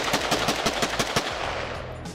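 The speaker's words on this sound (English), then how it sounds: "Now they're shooting guns." Firearms go off at an outdoor shooting range in a quick, evenly spaced string of about eight sharp nearby shots, followed by a brief lull and a last report, with no voices.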